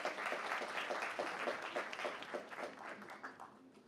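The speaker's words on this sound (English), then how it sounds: "All right, round of applause for Kathy, please." An audience applauds a speaker named Kathy Scher at a CollegeBound Awareness Month ceremony, with steady, dense clapping from a sizable crowd that holds strong for several seconds and then gradually thins and fades.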